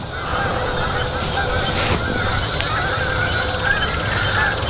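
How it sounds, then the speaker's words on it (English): Flock of geese honking as they take off from water, distant overlapping calls over a steady loud wash of outdoor noise. "So those geese are taking off again someplace."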